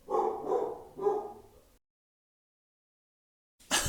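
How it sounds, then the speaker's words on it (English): Dogs give three quick muffled barks close by, followed by a stretch of dead silence and then a sudden burst of noise at the end. "oh my goodness, these dogs."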